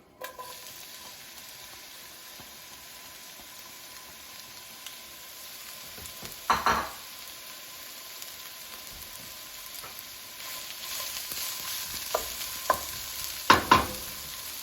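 Onion fries in a pan for a tomato chicken rice omelette, a soft steady sizzle close by, broken by a few brief louder clatters of stirring against the pan.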